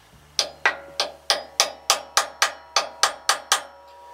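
An old Phillips-head drill bit, used as a punch while replacing a hydraulic cylinder on a loader, is struck by a hammer. About twelve sharp metallic blows land in an even rhythm, loud and close, with no talking.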